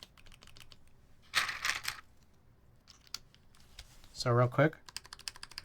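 Stabilized keys on a mechanical keyboard are pressed close up, giving two brief clusters of firm, plasticky clacks between lighter tapping, while someone talks quietly.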